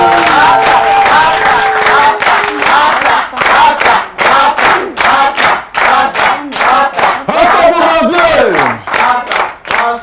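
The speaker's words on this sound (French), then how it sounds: "d'applaudir et d'encourager Rasta Bombardier." An indoor audience cheers and applauds loudly and up close, with excited shouts and rhythmic clapping carrying on without pause.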